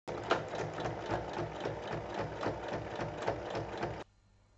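A sewing machine runs in one continuous burst for about four seconds, stitching fabric for a child's backpack, its rapid mechanical chatter loud and close before stopping abruptly.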